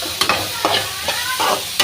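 Ivy gourd being stir-fried in a pan, with a steady close sizzle broken by several sharp scraping stirs of a spatula at irregular intervals, no voices.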